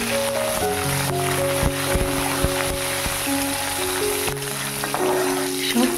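Mustard seeds and plenty of curry leaves crackle and sizzle in hot oil alongside frying peanuts and chana dal for poha, a loud, continuous close frying hiss with faint tonal sounds underneath.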